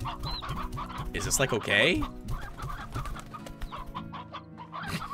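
Chickens in the farming game Slime Rancher cluck repeatedly in lively bursts, loud and close, while a person talks over them.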